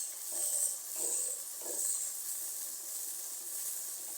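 Meat browns in a frying pan with salt and slit green chilies, giving a steady bright sizzling hiss with a few soft stirring knocks early on; no one talks.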